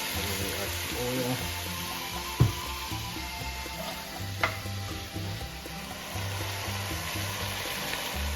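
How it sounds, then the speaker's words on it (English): Potatoes sizzle in oil in a pot for lentil soup, a soft steady frying hiss with occasional knocks and scrapes of a spoon stirring, while a voice talks faintly in the background. "now I'm going to add our potatoes. I'm going to stir and cook those a bit."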